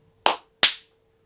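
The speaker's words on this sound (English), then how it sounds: "We're gonna clap now." Two sharp, close hand claps about a third of a second apart, each with a short reverberant tail in a quiet room during a home recording sync test, with near silence around them.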